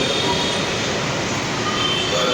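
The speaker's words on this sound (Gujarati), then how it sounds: "અને આ લોકલ ટ્રેન" Mumbai local train rolling past near a metro station, a dense continuous roar of rail noise with thin high wheel squeals, loud and close.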